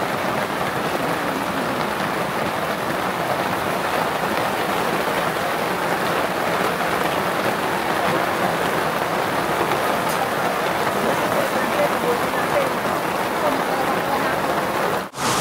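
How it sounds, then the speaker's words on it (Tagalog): Heavy rain pouring down at the Cabin Cafe in Baguio, a dense continuous hiss of drops on surfaces filling the whole stretch, loud and close, with no speech on top. "inabutan na nga kami ng malakas na ulan dito sa Cabin Cafe"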